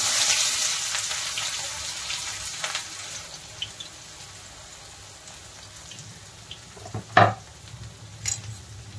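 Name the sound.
cumin and onion sizzling in hot oil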